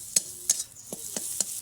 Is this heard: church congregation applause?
no